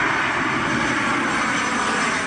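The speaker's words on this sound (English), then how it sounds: "the occasional airplane overhead here in the flight path" A fixed-wing airplane passes overhead along a flight path above a quiet residential street in San Diego, its engine a loud, steady broadband roar that fills the whole moment without pause.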